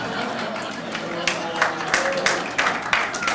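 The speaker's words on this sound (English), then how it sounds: "that's an applause line" An audience gives scattered, sparse applause, a few separate claps and small bursts rising toward the end, heard under ongoing talk.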